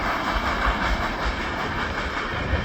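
A westbound freight train rolls past in rain in an Illinois town, a close, steady rumble with rhythmic low wheel thumps over rail joints beneath continuous hiss.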